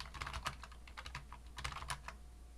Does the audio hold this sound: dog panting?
no